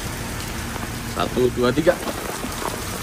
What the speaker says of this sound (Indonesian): Wah, hujan deras nih teman-teman.